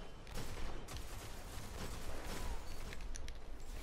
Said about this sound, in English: Fucking love this hand cannon.